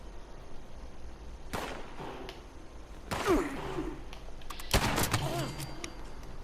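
A pistol fires in Fallout 76. There are several sharp, loud shots, some in quick bursts, with a lingering echo over background ambience.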